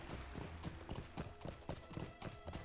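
Hooves of the Yule Festival Glittering Horse mount in LOTRO clip-clop in a brisk, even rhythm, close and steady for a few seconds with faint background sound.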